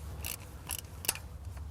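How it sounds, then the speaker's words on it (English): A ratchet tightens a plastic MAP sensor, giving three crisp, separate clicks spaced a fraction of a second apart against a quiet background. "Take our ratchet and screw that right on there."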